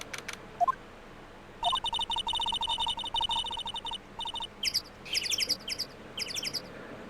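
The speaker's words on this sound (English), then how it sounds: "That's a loud bird." A loud bird chirps in Phoenix Wright: Ace Attorney Justice for All, giving rapid clicking trills followed by bursts of high, sharp, repeated tweets, close and clear, with no talk over it.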